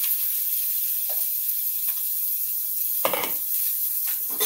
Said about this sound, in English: All right, so it sizzles right away